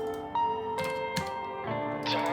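A few computer keyboard keys tapped in a short burst of typing, close and fairly quiet over a steady background hum.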